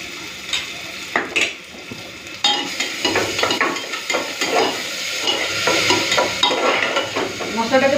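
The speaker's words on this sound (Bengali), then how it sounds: "এখন দিয়ে দেবো আদা রসুন শুকনো লঙ্কা বাটা" Onion with ginger, garlic and dry red chilli paste frying in a pan, a steady sizzle with repeated scraping stirs and occasional utensil clinks, close and fairly loud throughout.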